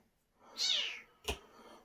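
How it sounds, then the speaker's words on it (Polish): A single loud, drawn-out cat meow, shrill and close, followed a moment later by a short sharp knock or thump. "Wracając wczoraj z ryb, u Januszka usłyszałem przeraźliwe, ale to przeraźliwe miauczenie."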